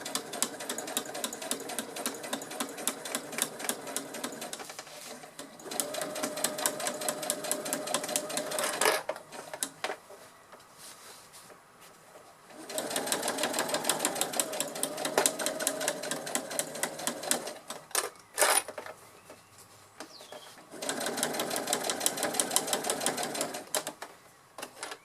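A sewing machine stitches fabric in long steady bursts of rapid needle clatter, stopping briefly between runs while the fabric is turned, close and fairly loud with no talking.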